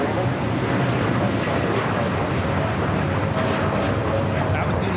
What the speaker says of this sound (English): That was United 923 taking off to London Heathrow on the 787-9 Dreamliner.